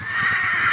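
A horse near a small airfield runway lets out a short, loud neigh, a strained, wavering whinny held for under a second with no talking.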